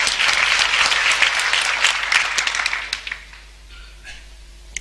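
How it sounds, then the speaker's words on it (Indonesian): An audience at a church seminar breaks into loud, dense clapping that holds for about three seconds, then thins into scattered claps and fades out. "Tepuk tangan untuk kebenaran ini."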